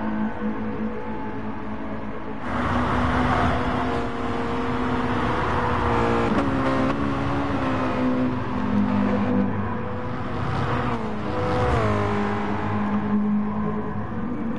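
Mazda MX5 race cars racing on a circuit, engines droning and shifting pitch as they accelerate and pass, a continuous layered motor roar with rising and falling revs throughout.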